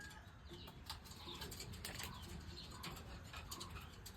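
A pet pigeon flapping its wings in bursts of fluttering beats, close and soft, with faint chirps around it.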